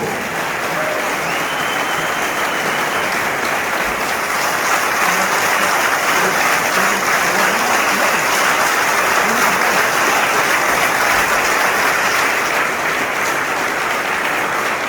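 Sustained audience applause at a political meeting in Guadeloupe, a thick unbroken wash of clapping and crowd noise that stays loud and even from start to finish.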